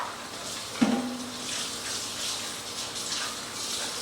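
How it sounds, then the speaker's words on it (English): Water poured from a tap into peanut butter powder for meal prep, starting with a sharp splash and settling into a soft, steady trickle, close and fairly quiet. "I'll add some water"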